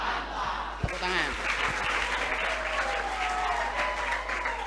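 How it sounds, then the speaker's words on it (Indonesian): An audience at a school character-building event for vocational high school students bursts into sustained, loud applause after a short call from a speaker, with cheering voices mixed into the clapping. "Tepuk tangan."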